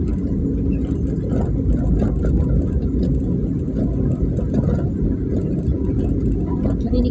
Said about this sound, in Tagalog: Narinig ko talagang sasakyan ko sa baba,